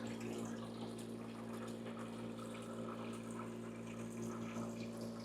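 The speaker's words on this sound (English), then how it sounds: "Water flow looks good." Water runs steadily through an Ice-O-Matic ice machine, a continuous low hum from the pump with a constant wash of flowing water over it and no voices.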